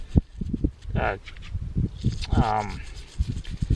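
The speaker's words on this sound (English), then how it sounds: "give it a little boot scrape and see if that's actually what's causing the signal" A boot scrapes over rough ground during gold prospecting with a metal detector. Short gritty rubbing strokes mix with the detector's warbling electronic tones, all close and fairly loud.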